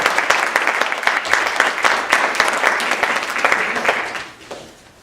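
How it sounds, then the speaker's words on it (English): An audience at a fraternity chapter's oratorical contest claps for the contestants, dense and loud applause from many hands that holds steady, then thins out and fades near the end. "Please give these sessions a round of applause."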